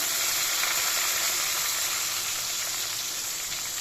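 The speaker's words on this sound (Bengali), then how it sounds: "বেগুন ভাজা হবে" Long-cut slices of homegrown brinjal fry in a pan with a steady, close sizzle and hiss that carries on evenly and softly, with no talking.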